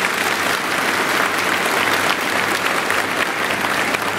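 A hall full of women at a guidance camp in Pandharpur applauds loudly, producing a thick, unbroken roar of clapping that stays even and strong from start to finish.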